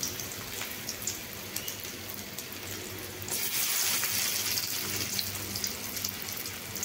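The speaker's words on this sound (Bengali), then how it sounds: "এবার আমি ম্যারিনেট করা কাঁচা কলাগুলোকে এখানে দিয়ে ভেজে নেব।" Marinated raw green plantain pieces fry in hot oil in a kadai, a close, crackling sizzle that swells louder and fuller partway through as the pieces go in.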